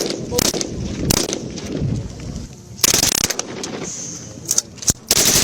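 KCR 556 and KMR 762 rifles fired during weapons trials, with loud, sharp shots and short rapid bursts scattered unevenly over outdoor background noise.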